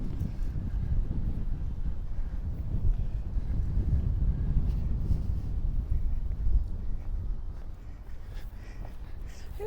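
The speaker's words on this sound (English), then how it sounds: "It's getting a bit breezy. Hoping it's not too bad on the microphone." Breezy outdoor wind buffets the microphone in castle grounds, a steady low rumbling roar that swells and dips throughout and eases slightly near the end, with no talk.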